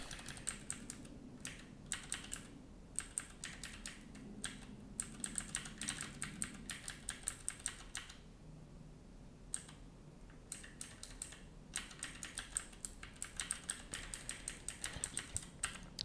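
Typing on a computer keyboard: rapid bursts of crisp key clicks, fairly close and quiet, broken by short pauses with no talk.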